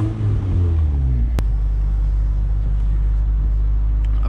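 Engine of a Mazda Miata under way: a steady, loud low rumble with a falling note early on, continuous road and engine drone throughout, heard from inside the car.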